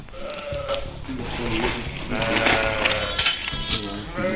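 Sheep on a British farm bleat at feeding time, several overlapping wavering calls close by, rising and falling over a busy barn background.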